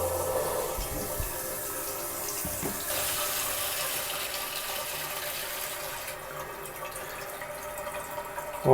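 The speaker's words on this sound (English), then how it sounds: "I can open this stop. Let the water start to fill in." A toilet tank refilling with water after the stop valve is opened: a steady hiss and rush of running water that carries on throughout, then eases slightly toward the end, close and fairly quiet, with no talk.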